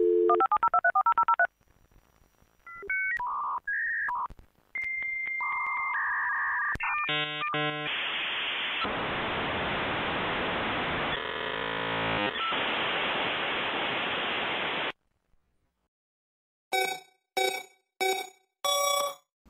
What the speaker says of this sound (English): you can access the internet via dial-up, which is essentially a process of getting the internet through a phone call.